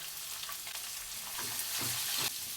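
Capsicum, cabbage, tomato, carrot and onion sauté over a high flame, giving a continuous, fairly quiet crackling sizzle with soft stirring scrapes that swell slightly toward the end.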